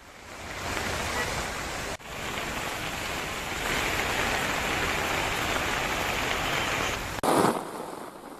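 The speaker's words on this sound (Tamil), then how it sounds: "பலத்த மழை பெய்ததால் சாலைகளில் தண்ணீர் பெருக்கெடுத்து ஓடியது" Heavy rain with water streaming along roads: a steady, dense hiss of downpour and runoff that continues throughout, broken by a couple of brief cuts and ending in a short, louder splash.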